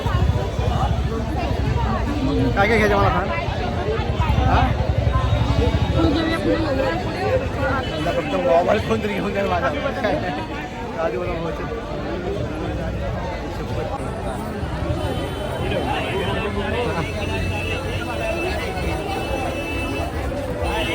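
Crowd hubbub fills a busy Dadar railway station in Mumbai, a steady wash of chatter and movement with close voices talking over it throughout.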